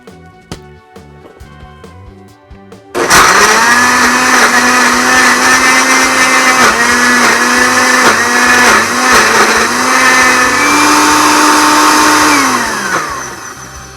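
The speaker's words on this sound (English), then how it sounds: "And I'm gonna try blending this up." A blender whirs up Oreos and milk for a whipped coffee treat, a loud steady motor roar that starts abruptly after a quiet stretch of faint clicks, straining and shifting pitch slightly before winding down.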